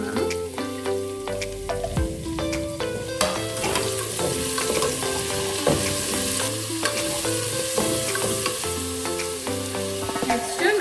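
Mixed vegetables and spinach sizzle in a hot pan for vegetable biryani, with a steady crackling fry broken by repeated scraping stirs of a spoon against the pan, close and fairly loud throughout.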